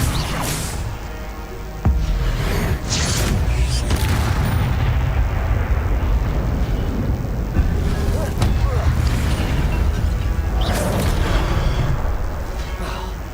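Fire spell casting in the video game Hogwarts Legacy, loud booming whooshes and crackling blasts over a dense, continuous roar of combat, with a voice speaking intermittently beneath.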